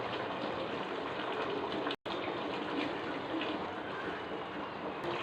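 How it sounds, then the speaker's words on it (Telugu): Water is poured into a cooking pot of chicken curry for biryani, a steady close rushing splash that runs continuously, broken by one brief cut. "ఒక లాటాడు నీళ్ళు పోసుకున్నామండి."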